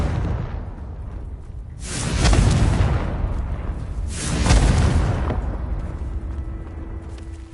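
In the video game Hogwarts Legacy, a Confringo blasting spell goes off twice, each a loud booming burst with a whooshing rush that swells and fades about two seconds apart, with no talking.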